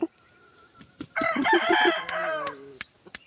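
A Pakistani Aseel stag rooster crows once, loud and close, a strained, drawn-out call after a few short clucks, in a backyard.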